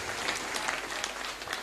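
Audience at a mushaira in Bhiwandi breaks into applause, a dense, even wash of clapping from a large crowd sustained throughout.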